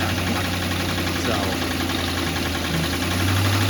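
A car engine idles with a steady low rumble and a faint knocking texture, close and continuous throughout, with no talking over it.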